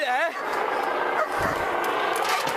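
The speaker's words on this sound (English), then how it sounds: "you've got a dog on top of you as well" A police dog barks during a nighttime arrest in an alley, a few rough barks up close amid loud scuffling noise and a high whine at the start.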